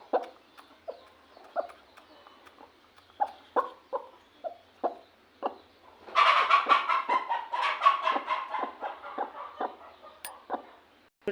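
A large laying hen on a village farm clucks in short, regular calls, then breaks into a louder, denser burst of cackling and squawking, close by with no talk.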